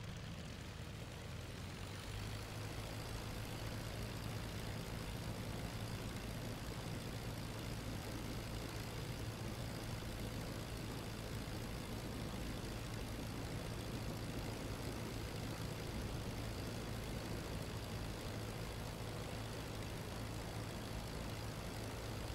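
A World War I biplane engine in the Rise of Flight flight simulator holds a constant, low droning roar with no change in pitch. Faint and unbroken, it runs for the whole span.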